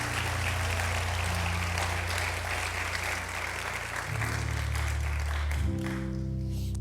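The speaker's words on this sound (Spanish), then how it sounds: "Vamos a darle un aplauso al Señor" A church congregation applauds during a Spanish-language sermon, the clapping steady and dense across the whole span, with sustained musical tones underneath, probably keyboard or organ, shifting pitch partway through.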